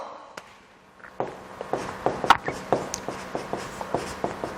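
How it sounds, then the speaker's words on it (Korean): Chalk or marker writing on a board during a Korean history lecture, with a rapid series of close, sharp taps and short strokes forming a rhythmic pattern after a brief quiet start. "자, 한번 써볼게요."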